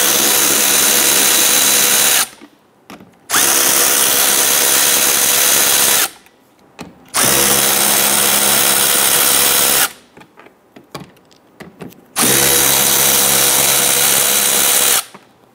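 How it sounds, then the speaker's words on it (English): Power drill loosening four 7/32 screws on the grille of a 2011-2019 Ford Explorer, with loud whirring bursts of several seconds each separated by short pauses, close up with no talk. "Loosen these 4 7/32 screws."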